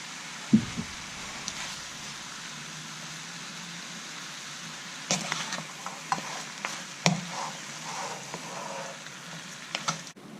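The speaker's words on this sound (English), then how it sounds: "once our meat's been sautéing there for a few minutes, just getting lightly browned" Goat meat sautéing in a pot for kaldereta stew gives a soft, steady sizzle, broken by a few sharp scrapes and clinks of stirring near the middle and end.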